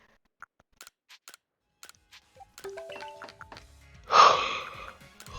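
A person's yawn, heard alone as one drawn-out, breathy exhale swelling and fading near the end, after a few faint clicks and small mouth noises.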